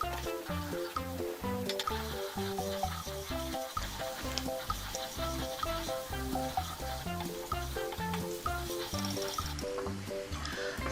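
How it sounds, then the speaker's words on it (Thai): Shallots fry and sizzle in hot oil while being stirred steadily with a spatula, a continuous soft crackle running beneath loud background music for the whole stretch. "เราก็สามารถใส่หอมแดงลงไปในน้ำมันได้เลย"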